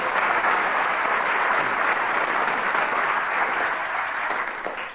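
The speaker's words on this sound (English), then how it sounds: "Give them another round of applause." A radio comedy panel show's studio audience gives a steady round of applause for the King's Singers, dense even clapping sustained for several seconds before easing slightly at the end.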